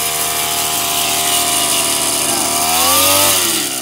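Small engine of a motorized weeding and hoeing machine for corn fields runs loud and close, a steady buzzing drone that rises in pitch as it revs near the end.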